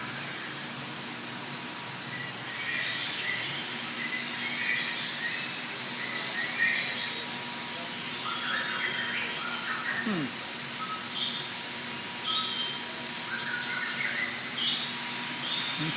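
Dense chorus of insects and chirping birds fills a zoo's indoor rainforest exhibit, a steady layered hum with scattered high tweets and calls throughout.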